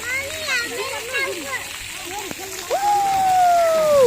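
Water splashes and pours steadily into a bucket, rising in pitch as it fills, while a voice chatters in the background.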